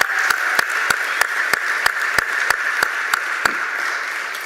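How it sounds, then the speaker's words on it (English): An audience at an August graduation ceremony in the Dayton area applauds in a steady wash of clapping, with a sharp, evenly spaced beat running through it for several seconds. "let's give one big round of applause as well to Cornerstone Baptist Church for their kindness"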